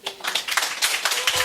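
An audience at a teachers' presentation event claps: a short burst of brisk applause from a small crowd, moderately loud and close, with no talk over it.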